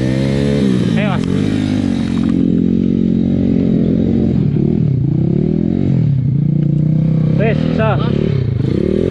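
A motorcycle climbing the steep final hill of a charity trail ride in Tengaran, Semarang, revs hard and close, its engine pitch rising and falling in surges, while people nearby shout and talk over it.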